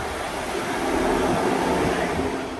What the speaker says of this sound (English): here's our next train just to Arnside